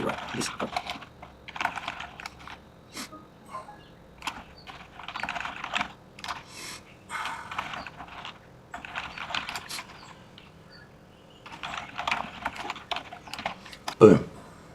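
Typing on a computer keyboard gives irregular bursts of close, crisp key clicks across the stretch, while someone speaks at times over the tapping.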